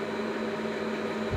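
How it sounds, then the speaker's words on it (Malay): An electric fan runs indoors with a steady, even whir and hum, close and continuous, with a soft low thump near the end. "Sekejap dengar tak bunyi kipas kau yang ni?"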